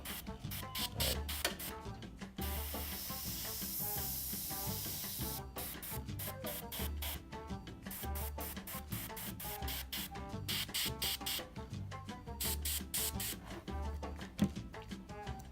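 Mission Models acrylic paint sprayed from an airbrush onto a model, a near, steady hiss broken into many short bursts with a few longer continuous sprays, alone with no talk.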